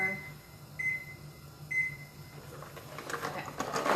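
A kitchen timer or microwave keypad gives two short electronic beeps while a steady appliance hum runs underneath, followed by some clattering near the end.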